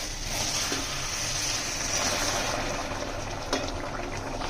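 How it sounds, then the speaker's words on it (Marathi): Hot water pours into a prawn masala curry in a pan, making a steady, moderately loud liquid rush that runs continuously with a brief splash near the end. "आता याच्यामध्ये मी टाकते गरम पाणी."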